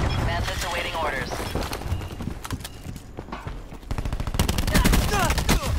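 Rapid video game gunfire, bursts of sharp repeated shots through much of the stretch, loudest near the end, under game sounds and a voice.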